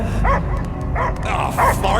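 A dog barks in the Guardians of the Galaxy video game, several muffled yips and woofs repeating over a loud background rumble, with voices mixed in.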